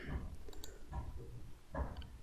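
Faint, close computer mouse clicks, about three soft taps spaced across a quiet moment, with no talking over them.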